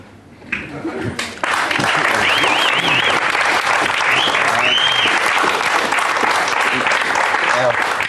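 An audience at a live comedy sketch show breaks into loud, sustained applause that starts abruptly and fills the room, dense clapping continuing without letup to the end, with a few faint voices underneath.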